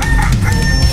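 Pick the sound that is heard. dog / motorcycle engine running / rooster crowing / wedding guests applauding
rooster crowing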